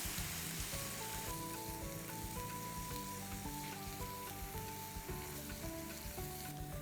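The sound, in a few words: sautéing ginger, garlic and spices in a pan for egg pomfret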